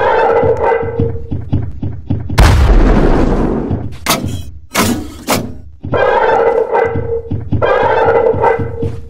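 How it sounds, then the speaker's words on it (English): A heavy booming blast of a cannon firing in the video game Piggy, inside a cave, followed by a couple of sharp bangs, with game sound and voices before and after. "I need to use this cannon so I can find the exit in the cave."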